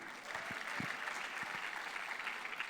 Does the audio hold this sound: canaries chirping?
no